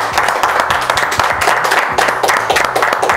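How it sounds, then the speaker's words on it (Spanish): Steady, loud audience applause at a Salvadoran TV singing competition, a dense wash of clapping that carries on without a break and with no voices. "se merece un aplauso el tipo"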